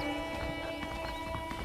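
Horse hooves clip-clop at a steady walking pace in a Western video game, Red Dead Redemption on Xbox One, a short burst of regular beats over a constant music and ambient bed.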